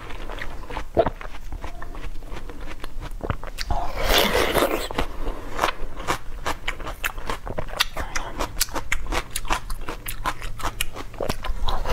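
Crisp bites and wet chewing of watermelon, close and intimate in an eating ASMR setting, a steady run of crunchy, juicy mouth sounds with brief pauses, no talking.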